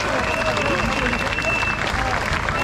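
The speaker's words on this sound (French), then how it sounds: "vous devez vous applaudir" A seated audience applauds loudly and continuously, dense clapping filling the room close up, with a voice speaking over the crowd.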